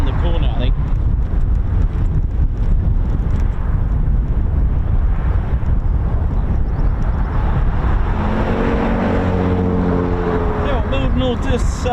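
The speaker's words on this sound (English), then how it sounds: "Yeah, you can definitely hear the Osprey there" A CV-22 Osprey runs its engines out of sight at RAF Mildenhall, a constant distant roar under wind noise, with a rising whine emerging in the later seconds and voices present.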